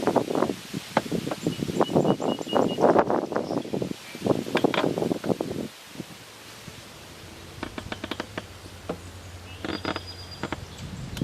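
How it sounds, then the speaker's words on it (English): Gusts of wind roar and rustle outdoors around young trees in tree tubes, loud bursts buffeting close by for several seconds before easing into quieter intermittent rustling and faint scattered rattles. "Sorry about the wind. I'll wait till the wind dies."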